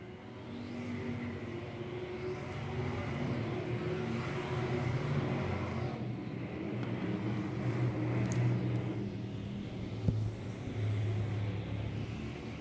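Race cars at Valley Speedway accelerate around the track, engines droning and swelling in overlapping roars at moderate distance, the pitch rising and falling as the pack passes, with no voices.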